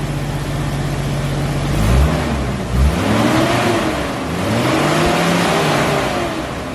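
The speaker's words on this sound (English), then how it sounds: "Rev it." An Ultra4 off-road car engine idles low, then revs up in several rising and falling swells, loud and close, with no talking over it.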